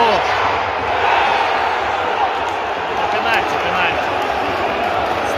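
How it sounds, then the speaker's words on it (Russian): Football stadium crowd at a Željezničar match in Bosnia, a broad steady roar of cheering and applause from thousands of fans, continuous and loud throughout with no pause. "Стадион ликует."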